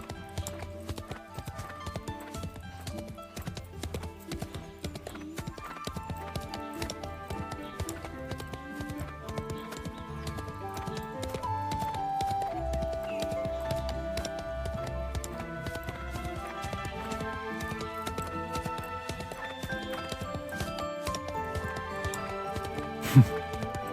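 A ridden horse's hooves clip-clop in a steady, even rhythm throughout a fantasy game scene, set under continuous music.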